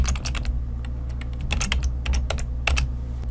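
Fingers type on a computer keyboard in short irregular bursts of crisp, close key clicks, separated by brief pauses, over a low background hum.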